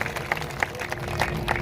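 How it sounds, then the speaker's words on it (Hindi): Crowd clapping at a farmers' gathering at the Khatkar toll plaza, a steady patter of many hands with a few sharper claps standing out, close and continuous. "जोरदार तालियां पूरी की पूरी टीम के लिए।"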